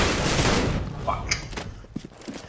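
A shotgun in a video game fires in a loud, dense burst that decays into scattered smaller impacts and crackles.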